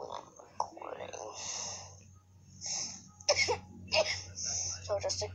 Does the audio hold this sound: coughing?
yes